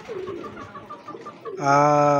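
Racing pigeons coo close by, a soft murmuring stretch giving way to one strong, sustained coo near the end.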